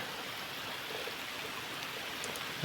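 Steady rain falling, a continuous even hiss of drops on surfaces with no voices, moderately close throughout.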